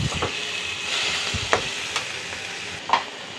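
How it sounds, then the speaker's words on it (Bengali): Mustard paste and chilli paste frying with Malabar spinach stalks and a splash of water make a steady hiss with occasional light spatula taps and clicks, close by and without speech. "এখন দেখো সর্ষে বাটাটা লঙ্কা বাটাটা দিয়ে দিলাম"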